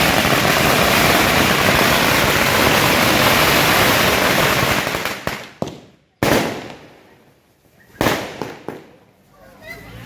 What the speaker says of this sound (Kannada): ಕಾಂಗ್ರೆಸ್ ಕಾರ್ಯಕರ್ತರು ಪಟಾಕಿ ಸಿಡಿಸಿ ಸಿಹಿ ಹಂಚಿ ಸಂಭ್ರಮಿಸಿದರು